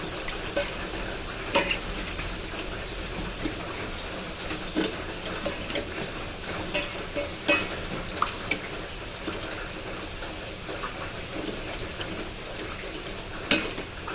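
Jackfruit pieces frying in oil in a pan are stirred and turned, giving a steady sizzle with scattered scraping and clinking of a utensil against the pan, close by, with no talk.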